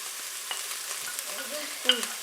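Couscous being stirred and mixed in a pan, a quiet soft scraping with light sizzling and a couple of brief clinks near the end.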